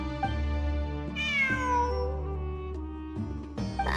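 Cat in Genshin Impact meowing in a few drawn-out, wavering cries, close and clear over a tonal game music bed.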